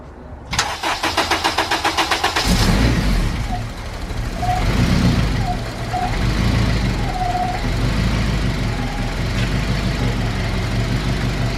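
A turbocharged K20A2-swapped Honda CRX engine cranks with rapid rhythmic turnover, catches, and settles into a steady low idle that rumbles on loudly and evenly.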